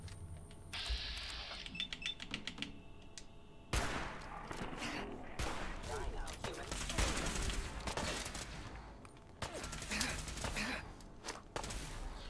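Video game combat in Fallout 4: bursts of gunfire and grenade blasts, with a sharp loud explosion partway through followed by rapid crackling shots and impacts, dense and irregular.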